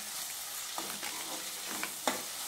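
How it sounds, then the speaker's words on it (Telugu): Egg curry with garam masala being stirred and mixed in a pan, soft scraping strokes and a few spoon taps over a steady sizzle, close by with no talk. "మిక్స్ చేసేసాను మొత్తం."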